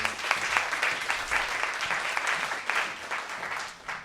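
Sustained audience applause at a live university research-talk final in Galway, a dense wash of many hands clapping steadily for about four seconds, fairly distant and even, with no talking over it.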